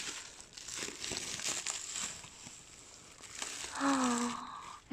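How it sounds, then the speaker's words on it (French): Bubble wrap crinkles and rustles softly nearby during an unboxing, with a brief voice exclaiming near the end. "Et les papiers bulles"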